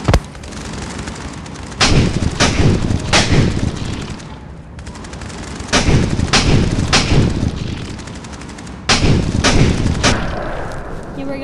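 Gunfire in a mobile shooter video game: loud, close bursts of rapid shots in several clusters separated by short, quieter pauses.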